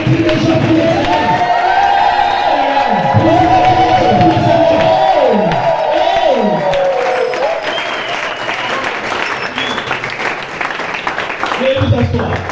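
Church congregation cheering and clapping in acclamation of the Lord: loud, sustained applause and shouting from a large crowd fill the whole stretch, with voices rising and falling over the clapping.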